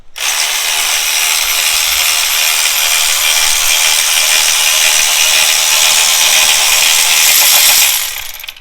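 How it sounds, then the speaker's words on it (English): An electric ratchet spins spark plugs out of a BMW S55 engine in an M3/M4, a loud continuous whirring buzz lasting about eight seconds before cutting off sharply. "to make the job a little bit faster, you can take an electric ratchet"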